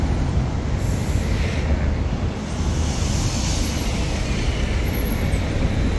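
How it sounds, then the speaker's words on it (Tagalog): Loud, continuous rail rumble with a faint high whine on top as a tram pulls away nearby, steady throughout with no talk. "kabababa ako din lang dyan sa tram na naalis eh"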